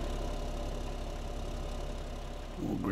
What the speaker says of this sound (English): Alright, I'm just going to leave the engine running.